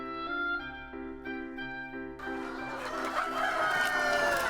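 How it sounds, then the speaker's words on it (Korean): At a poultry farm below Wolmyeong Mountain in Byeokori, where about 2,500 chickens are raised, a rooster gives a drawn-out, tonal crow. A dense, noisy din of many clucking hens then takes over, close and continuous. "벽오리에서도 마을 위편 월명산 아래 자리한 양계장"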